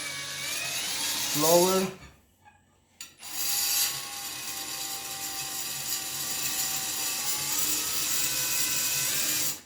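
A Parkside drill in first gear bores into fragile tile with a 10 mm multi-purpose bit, whining and grinding steadily after a short pause, loud and close, with a brief spoken word near the start.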